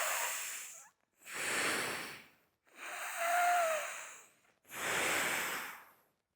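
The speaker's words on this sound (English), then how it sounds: "Nadi Shodhana, that alternate nostril breathing" Forceful Nadi Shodhana alternate nostril breathing by a man: four strong, hissing nasal breaths, in and out alternating, each about a second long with short pauses, close and rushing, one carrying a slight whistle.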